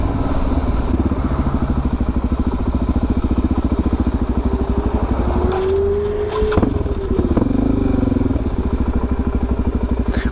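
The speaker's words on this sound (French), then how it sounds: "c'est chiant quand je mets des coups de gaz un peu brusques qu'elle coupe" Suzuki DRZ 400 motorcycle with a carburettor running steadily while riding, a loud close engine drone throughout with a throttle rise and fall around the middle and no talk.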